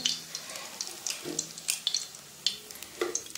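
Fritters sizzle in hot oil in a wok, a quiet, crackling fry with scattered sharp pops and spatters spread irregularly across the few seconds, close and without talk.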